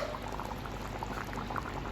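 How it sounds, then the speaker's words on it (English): Drained canned broad beans tumble into a simmering pot of oxtail, a dense, continuous wet bubbling and splashing pour, moderately close and with no voices. "So I'm just gonna go ahead and add a can of beans."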